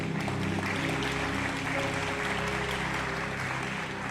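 Church congregation applauding together, a dense continuous wash of clapping that holds steady and fairly loud throughout, with no talk over it.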